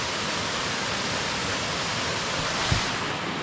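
Nalalata Falls pouring as a steady, dense roar of falling water, loud and close, unbroken throughout apart from one brief faint knock.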